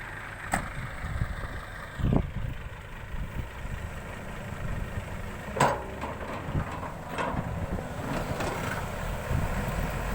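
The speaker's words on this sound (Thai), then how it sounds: "พารถไถมาแต่งทางครับ" Tractor engine running outdoors near a rubber plantation while a track is graded, a steady low rumble throughout with a few sharper knocks and clatters rising over it.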